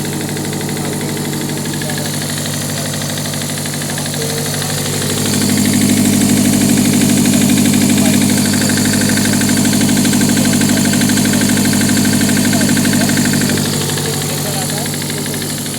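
A vehicle engine running during DPF regeneration, bonnet open, a steady close idle with a deeper drone swelling in the middle and easing back toward the end, loud and continuous.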